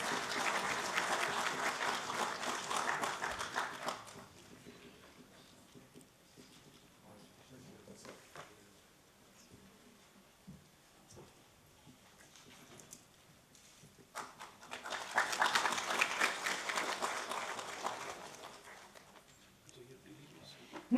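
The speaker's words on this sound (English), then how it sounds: "Audience, can we have a huge round of applause for our awardees?" An audience at a national business excellence awards ceremony in Vigyan Bhavan, New Delhi, breaks into applause twice, each burst lasting about four seconds, with a quiet gap between them.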